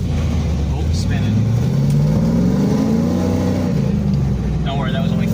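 A 1999 Pontiac Trans Am with a six-speed gearbox pulls away at light throttle, its low engine note rising and falling steadily up close from inside the cabin, with no voices over it.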